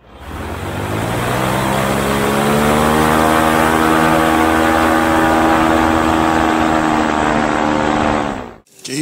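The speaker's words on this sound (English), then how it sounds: "Golf Tango Mike taking off 1-1, departing to the south" A microlight aircraft's propeller engine runs up at full power for takeoff into a 35-40 knot headwind, a loud steady drone with rising harmonic whine sustained for about eight seconds before cutting off abruptly.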